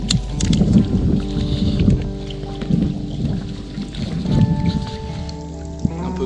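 Inflatable kayak paddled on the Danube in Serbia, near the Tabula Traiana: steady water sloshing and dipping paddle strokes close by, with low rumbling and splashing, no talk.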